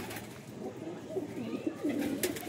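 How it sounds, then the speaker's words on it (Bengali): Pigeons in a breeding coop coo softly in several low, throaty phrases over a noisy background, fairly faint, with no talk. "এই যে আমার ব্রিডিং কুপের পায়রা।"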